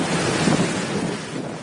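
Cyclone Nisarga lashing the coast between Alibag and Mumbai with heavy rain and strong winds: a dense, continuous roar of downpour and gusting air, steady and loud throughout with no voices.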